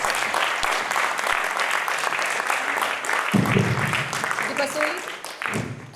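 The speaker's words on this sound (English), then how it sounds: "Please give a new round of applause." Seminar audience applauds steadily through a valedictory function honoring a Padma Shri awardee professor, dense clapping holding for the full stretch while a voice speaks over the second half.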